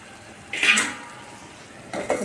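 A lid is set on a cooking pot holding aubergine, potato, egg and tomato, giving a brief metallic clink and a second softer clatter against quiet kitchen background.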